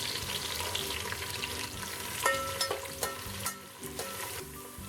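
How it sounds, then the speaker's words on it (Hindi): Coconut, raisins and almonds roasting in a pan for sweet rice, a soft steady sizzle with light clinks of stirring, faint and continuous. "कोकोनट, रेजिन्स, किशमिश डाल के, बादाम डाल के इसको थोड़ा सा हम भूनेंगे।"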